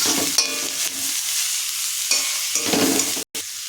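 Mixed vegetables with chopped tomato stirred in a hot pan, a close, loud sizzle with several scraping strokes of the spoon and a brief dropout near the end, no voices.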